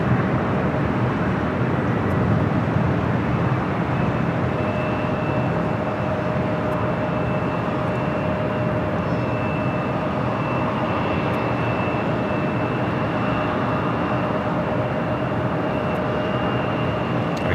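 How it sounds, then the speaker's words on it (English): ANA Dreamliner and an A380 airliner at LAX, a continuous loud jet roar with a steady whine layered over broad rumble, sustained evenly for the whole stretch without talk. "That ANA Dreamliner as well as the A380 on its way here to the north side"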